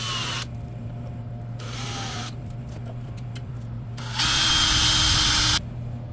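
A 1/4 inch drill bit bores into a punched center point on metal for hand-made fabrication tabs, in two loud bursts of whirring drilling over a steady low motor hum.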